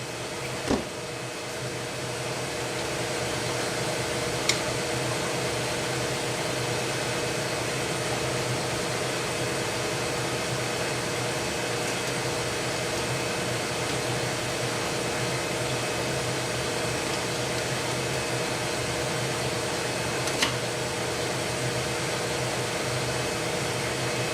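A power tool runs steadily while unbolting a plate on an HPI Savage RC truck, a continuous whirring drone lasting the whole time, close and fairly loud, with a couple of brief clicks.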